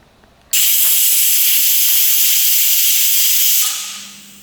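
A pressure cooker cooking basmati rice on a medium flame lets out one loud, sharp hiss of steam through its whistle, lasting about three seconds before tapering off.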